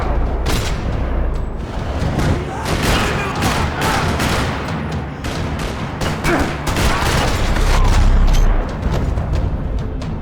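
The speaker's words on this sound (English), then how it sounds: "Another parking lot rattling with gunfire." Dense, rapid video game gunfire in a parking lot in Max Payne 3 crackles and booms continuously, volleys overlapping into a loud, relentless barrage with no pauses.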